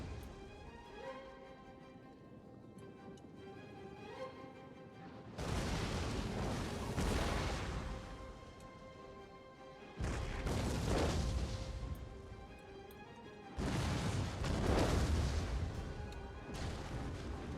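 Siege weapons and units fire on a city wall in the Total War: Attila strategy game, three heavy booming impacts with rumbling crashes and debris, loud and close, over a quieter bed of battle ambience and music.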